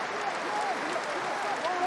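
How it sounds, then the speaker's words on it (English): A stadium crowd at a Northampton v Bath rugby match applauds in sustained, fairly soft clapping, while a commentator's voice talks faintly over it throughout. "Still the applause rings round the stadium as the respect is shown"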